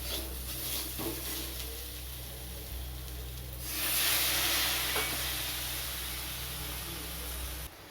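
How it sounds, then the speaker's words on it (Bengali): Spice paste frying in a pan with a little water for a prawn and potato curry, a soft steady sizzle and hiss that swells into a louder steaming burst midway, with light stirring scrapes. "অল্প একটু জল দিয়ে মশলাটা কষিয়ে নেব"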